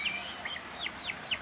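Young chickens of about a kilogram feeding, giving about five faint, high, descending peeps at a steady pace over quiet background noise.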